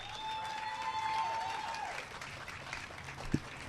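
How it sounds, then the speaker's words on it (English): Applause from the audience at a city press briefing on tiny homes, a faint, distant wash of clapping with a single sharp knock near the end. "Give a big round of applause."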